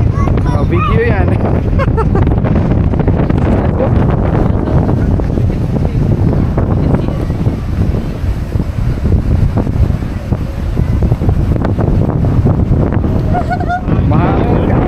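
Strong wind buffets the microphone continuously on a ferry to Victoria, British Columbia, roaring and gusting over a deep rumble of water and engine, with people talking throughout.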